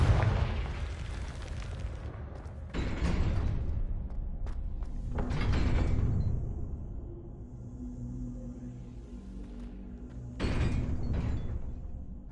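Confringo fire spell from Hogwarts Legacy bursting in a string of heavy booming blasts, each trailing off into a low rumble, with a final loud burst near the end.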